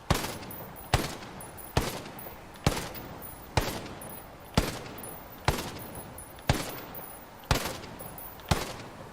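Ten evenly spaced shots from a Stoner LMG ring out in Ghost Recon Breakpoint, fired in single rounds from a kneeling position at 25 metres, each a loud sharp crack with a short decaying tail.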